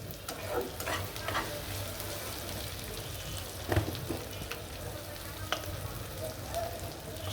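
Oil sizzles steadily in a pan while chital fish kofta curry is fried, with loud crackling and occasional stirring scrapes and spatters close by and no talking.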